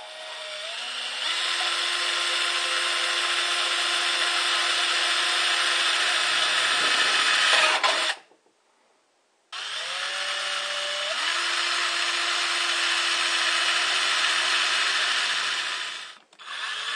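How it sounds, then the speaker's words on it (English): A power tool cuts a hole through a steel can for a homemade five-can rocket stove, giving a loud, steady grinding whine in two long bursts separated by a short pause, with no talking. "just score the line and we'll cut the hole."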